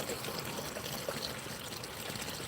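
Water pours for a pet pig in a steady, splashy trickling hiss that runs continuously through a short stretch, close by, with no voices over it.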